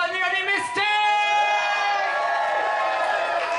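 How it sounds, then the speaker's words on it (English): A crowd at Bristol Pride 2014 cheers and whoops for drag performer Misty as she takes the stage, a dense, loud, sustained roar of shouting voices with a brief dip early on. "please give a massive round of applause to the one and only Misty!"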